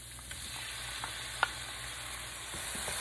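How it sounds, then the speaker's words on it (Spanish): Chopped tomato sizzles in a pan with sautéed garlic and onion, a close, even frying hiss with faint crackles and one sharp utensil tap. "Cuando el ajo y la cebolla ya están sofritos, agregamos un tomate picado."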